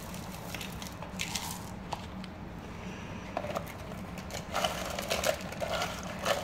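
Frozen coconut milk stirred with sodium hydroxide for homemade soap, a steady wet churning and squelching close by, with brief crackling scrapes growing louder toward the end and no talking.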